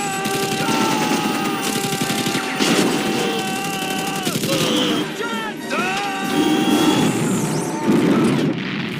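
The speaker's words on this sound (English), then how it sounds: "it is just nonstop gunfire and explosions" A loud, dense battle soundtrack from the film Rambo III, continuous gunfire and booming blasts, layered with music and whining tones, relentless from start to finish.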